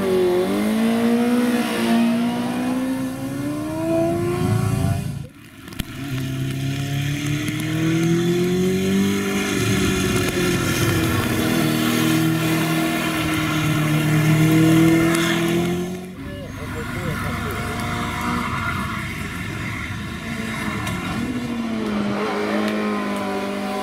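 A 1976 historic race car with a 7.5-litre engine climbs a hillclimb course at Quintal, its loud engine note rising and falling through gear changes, with brief dips where it shifts, close and continuous throughout.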